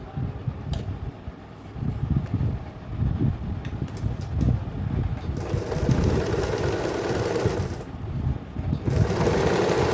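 A sewing machine runs in continuous bursts while stitching elastic on a night suit, a steady close whirring hum with slight changes in speed.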